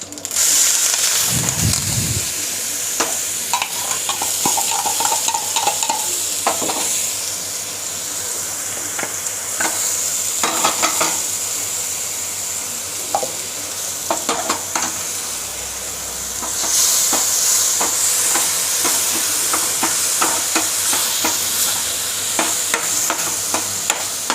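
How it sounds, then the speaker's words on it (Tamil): Pepper and cumin paste frying in a pan with asafoetida, a steady sizzle and hiss under repeated scraping of a spoon stirring, close and continuous. "நீங்கள் அரைச்சி வச்சுருக்க அந்த மிளகு சீரக விழுதை இதில் கொட்டிடுங்க"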